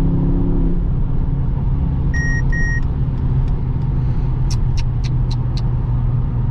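A Mercedes-AMG GT63S E-Performance drives on the Autobahn, its engine and road noise a loud, steady drone heard from inside the cabin. Short electronic chimes and beeps sound over it, and nobody speaks.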